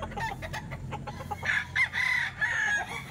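Lemon Sweater gamefowl rooster crowing loudly and close, a few clucks leading into a drawn-out, strained crow with a second call trailing after it.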